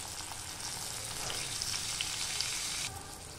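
Chopped tomato is added to a pan of frying masala of turmeric, coriander powder and grated coconut for a bitter gourd curry, and it sets off a loud, steady sizzle that rises and then drops back near the end.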